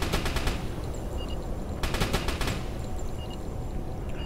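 Rapid machine-gun bursts in the submarine game Uboat, aimed at the U-boat: two short volleys of fast cracking shots over a constant rumbling engine or sea noise.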